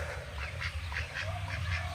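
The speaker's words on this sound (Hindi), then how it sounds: "ये देखो बत्तख कितने खूबसूरत है गाइस" Ducks quack in a loose rhythmic series of nasal calls over a low rumbling background, moderately close.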